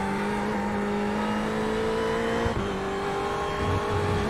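Ferrari 488 GT race car engine in the iRacing sim, holding a steady, loud harmonic drone at high revs that dips briefly with a gear shift midway, then climbs again, with faint tire noise underneath and no voices.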